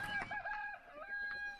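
Chickens in a hen house used for brooding hens cluck and crow faintly and continuously, a rooster's drawn-out call carrying through the quiet, distant setting.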